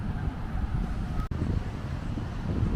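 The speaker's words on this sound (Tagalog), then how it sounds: "Ang lakas ng hangin." Strong, cold wind at a seaside spot in Vung Tau with waves nearby, roaring steadily as broadband rumble across the whole stretch, with one brief dropout midway and no clear talk.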